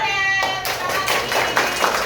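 A classroom group claps the 'tepuk cinta' rhythm in short bursts of hand claps and taps, fairly close and lively, with faint voices mixed in.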